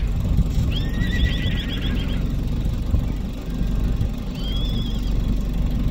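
Two horse whinnies ring out, a longer one followed a few seconds later by a shorter one, over a continuous quad bike engine rumble.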